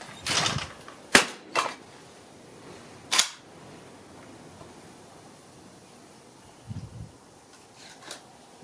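A Remington 11-87 Sportsman 20 gauge shotgun fires at trap outdoors: three sharp, fairly close reports spaced a second or two apart, with light handling clicks and quiet ambience in between.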